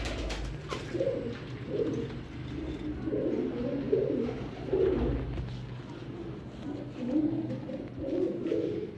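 A Lal Sherazi double shade breeder pair of pigeons coos close by in low, rolling bursts that repeat steadily, with a faint low hum underneath and no talking.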